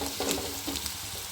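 Green plantain pieces with a pinch of turmeric are stirred in a hot frying pan for a Kerala mezhukkupuratti, giving a steady close sizzle broken by soft scraping stirs.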